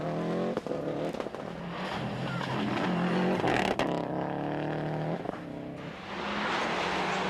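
A 300-horsepower Subaru rally car roars through the tight, slippery park lanes of the 1999 Lark in the Park rally, its engine loud and close, pitch rising and dipping as it brakes and accelerates without a break.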